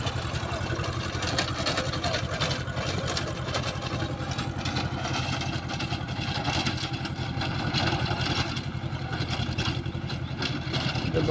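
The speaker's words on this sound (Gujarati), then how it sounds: "ટ્રેક્ટર હેડે છે" A tractor works in a chili field, its engine running with a steady, continuous drone and no pauses across the whole stretch.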